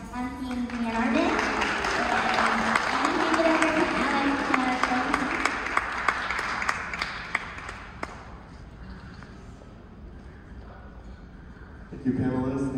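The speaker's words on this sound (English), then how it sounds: "So I think another round of applause for Team Diane Arbus." An audience at a disability-in-art-and-film panel event applauds steadily for several seconds, dense clapping that fades out toward the end before a voice starts up.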